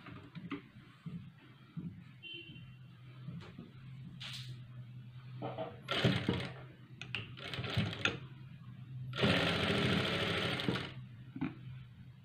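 A sewing machine stitches a two-colour blouse, running in several short whirring bursts of rapid needle clatter, the last one longest, separated by quiet pauses with faint handling noises.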